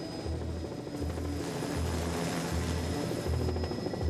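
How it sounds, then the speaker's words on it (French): Helicopter flying over the Jura region of Switzerland in 1988, a loud, steady rotor thump and engine roar sustained throughout with no voices. "déjà un hélicoptère fonce dans le ciel jurassien"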